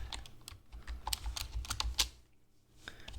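Code is typed on a computer keyboard in quick, irregular bursts of close, soft key clicks, with a brief pause near the end before a few more taps.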